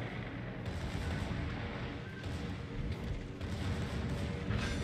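Secondary guns on a warship in World of Warships fire in a dense, continuous barrage, a loud rumbling wash of overlapping booms with no pauses and no talk.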